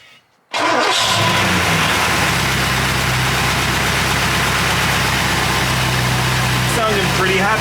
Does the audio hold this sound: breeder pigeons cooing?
no